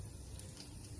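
Finely chopped garlic sizzles in hot oil while a raw mango curry is being made. The hiss is soft and continuous, heard close up over one brief moment.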